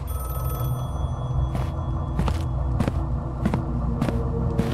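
A telephone ringing in the video game Jack Holmes: Master of Puppets, heard as regularly spaced ring bursts about every half second over a droning hum, close and clear.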